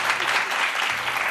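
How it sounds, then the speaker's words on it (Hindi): A burst of clapping from a group, dense and steady, close and fairly loud for its short length. "तालियां तो बजा दें"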